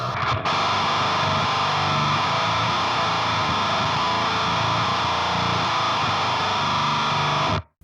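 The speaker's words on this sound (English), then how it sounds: "you play the fifth, like a normal power chord, but then you play the fifth an octave down" A thick, heavily distorted slash chord, a power chord with the fifth added an octave down, through a Boss HM-2 pedal's chainsaw tone, rings out and sustains loudly for several seconds before cutting off abruptly.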